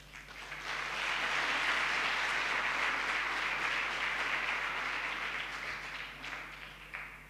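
Sustained audience applause at a coaching institute's farewell function, a dense wash of many hands clapping that swells within the first second, holds steady for several seconds, then thins toward the end.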